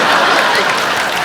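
A TV comedy show studio audience claps steadily in a dense burst of applause, loud and close, with no voices standing out.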